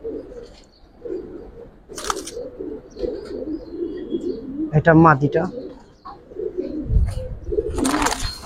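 Old-breed Giribaz and coloured pigeons cooing in a loft, soft repeated coos with a few chirps and a brief wing flutter, while someone talks close by.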